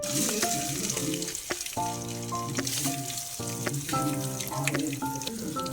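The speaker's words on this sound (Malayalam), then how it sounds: "എണ്ണ നന്നായിട്ട് ചൂടായി കഴിയുമ്പോൾ നമുക്ക് ഇതിനകത്തേക്ക് ഒരു ചെമ്മീൻ ഇട്ട് കൊടുക്കാം." Shrimp frying in hot oil, giving a steady bright sizzling hiss throughout, partly masked by tuneful background music playing over it.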